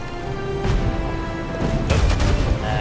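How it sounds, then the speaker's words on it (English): Ship cannons fire in Pirates of the Caribbean Online, two deep booming blasts over a steady rumbling background of sea and game ambience. "I'm gonna use my cannons for this one"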